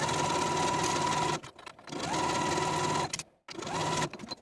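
A sewing machine stitches a seam in three fast whirring bursts, each stopping abruptly with brief pauses between, close and clear.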